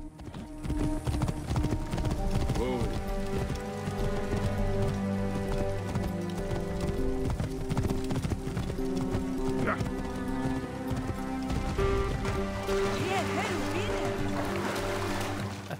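Steady horse hooves clip-clop at a trotting pace in Assassin's Creed Origins over game music, with a voice talking now and then.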